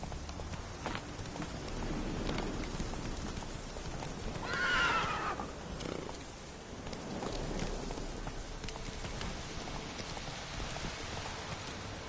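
A horse in The Witcher 3 game, ridden through rainy Velen, clip-clops at a steady pace with rain hissing throughout and one loud whinny in the middle.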